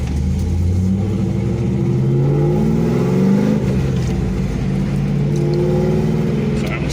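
A Pontiac Trans Am cruising, its engine a steady low rumble with gentle rises in revs under road noise from inside the cabin; someone talks over the drone.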